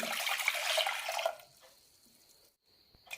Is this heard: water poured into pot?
yes